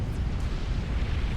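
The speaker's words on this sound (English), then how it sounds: "Explosions going on all the time." Explosions go off during a naval battle with battleships and destroyers in the strategy game Supreme Commander, a loud, continuous low rumble of overlapping booms with no talking over it.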